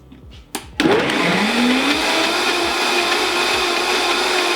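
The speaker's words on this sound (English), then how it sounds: "I'm gonna add another scoop of the hot cocoa powder. And blend." Blender mixing a hot cocoa cocktail after an extra scoop of cocoa powder, with a couple of knocks first, then a motor that whirs up fast into a loud, steady roar lasting to the end, with no talking.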